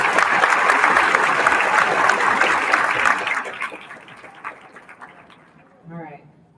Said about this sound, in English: Let's give our students another round of applause for their award